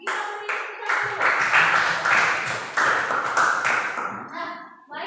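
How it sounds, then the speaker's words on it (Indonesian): Students in a classroom applaud after group presentations, a burst of clapping that starts abruptly, stays fairly loud and uneven for a few seconds, then fades out. "Kita beri tepuk tangan."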